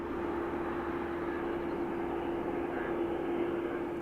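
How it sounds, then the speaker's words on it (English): An Embraer jet lands at Dublin Airport with a steady, distant engine rumble and a constant droning tone, faint and even throughout with no talk. "bit of a rocky one for the Embraer"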